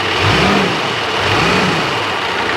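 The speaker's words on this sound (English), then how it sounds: "Now I'll just rev it up a little bit." A car engine with a struggling air-conditioning compressor runs loud and close, revving gently in a steady, rough mechanical drone with a faint whine on top.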